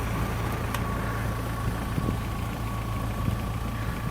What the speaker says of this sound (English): I think there's a slight blow in my flex here